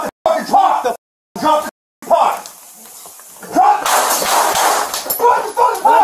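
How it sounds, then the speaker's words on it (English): Police officer's handgun fires a rapid burst of many shots at close range during a confrontation in a home, broadband cracks following loud shouting by people in the room. "19 shots fired."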